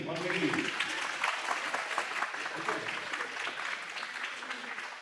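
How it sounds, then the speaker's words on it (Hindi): Audience applause follows a call for a loud round of clapping for the people introduced at a career-planning talk, a dense, steady spread of many hands clapping throughout, fairly close, with voices mixed in under it. "सबके लिए एक बार जोरदार ताली।"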